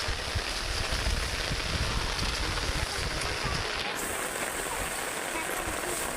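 Heavy rain pours steadily over rice paddy fields, a dense continuous hiss with low rumbling wind buffeting the microphone, loud and close throughout.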